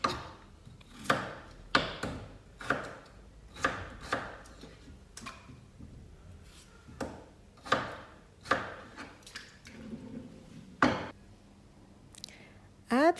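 Vegetables are peeled and chopped by hand for a home lunch, the knife landing in a steady run of sharp close knocks on a board with short pauses between bursts, and a brief scrape near the end.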